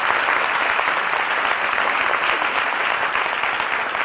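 Studio audience on a daytime talk show breaks into dense, steady applause that stays loud and sustained for the whole stretch, with no voices on top.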